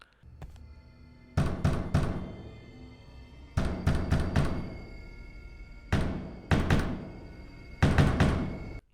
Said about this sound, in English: She starts banging on the door